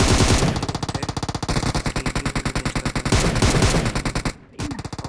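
Rapid automatic gunfire rattles in a shooter video game, loud continuous bursts of fast shots with a brief gap near the end before firing resumes.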